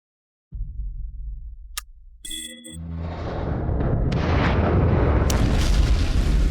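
Artillery fire in an animated sci-fi battle. A low rumble comes first, then electronic tones, then a heavy, sustained roar of barrage that builds and keeps going.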